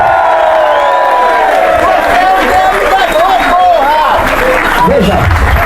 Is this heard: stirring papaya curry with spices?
no